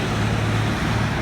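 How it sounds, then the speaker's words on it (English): Steady roadway traffic noise rolls past outside near a Coachmen Freedom Express 17BLSE travel trailer, a constant loud low rumble and hiss with no talk. "Pardon the traffic noise."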